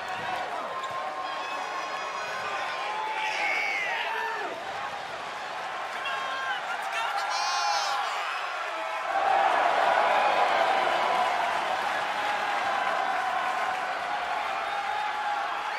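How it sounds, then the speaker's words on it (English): A wrestling arena crowd at a WWE casket match roars in a sustained ovation of cheers and applause, swelling louder in the second half while a commentator talks over it. "Listen to this ovation."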